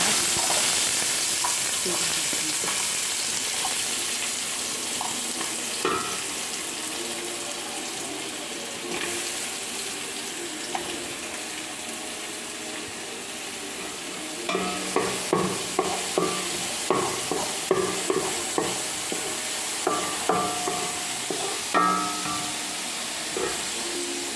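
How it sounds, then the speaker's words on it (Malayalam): Onions frying in oil in a pan for Kerala chicken curry, with a steady sizzle throughout, later joined by a run of rhythmic spatula knocks and scrapes as they are stirred, and no clear speech. "ചിക്കൻ വെക്കാൻ വേണ്ടി എണ്ണ ഒഴിക്കുന്നുണ്ട് ഉള്ളി വരട്ടാൻ ഇതിലേക്ക് ഉള്ളി ഇടുന്നു"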